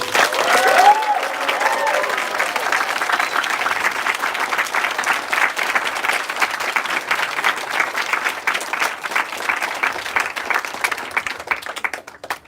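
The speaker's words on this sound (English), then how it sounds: "let's give them a huge round of applause" Audience at the RoboSub 2023 awards ceremony giving the judges a big round of applause, a loud, dense, sustained wash of clapping from a large crowd lasting over ten seconds before tapering off at the end.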